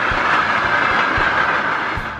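A train passes a level crossing in England with a close, steady rumble and rhythmic clickety-clack of wheels over rail joints.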